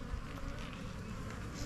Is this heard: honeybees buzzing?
yes